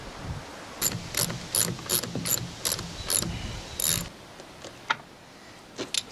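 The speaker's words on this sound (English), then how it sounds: "I'm just gonna lower the jack." A car jack being lowered gives a run of regular ratcheting clicks, close and fairly loud, that slow and thin out into a few scattered clicks after about four seconds.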